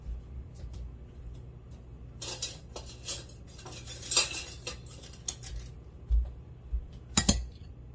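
A utensil stirring tomato pie filling with oregano in a bowl, giving a series of light irregular clinks and scrapes, a few sharper knocks near the end, with no talk.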